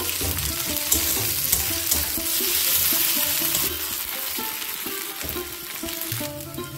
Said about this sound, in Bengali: আমি রসুন বাটা দিয়ে দিলাম আর আদা কাঁচা লঙ্কা বাটাটা দিয়ে দিলাম। ভালো করে নেড়ে নেব।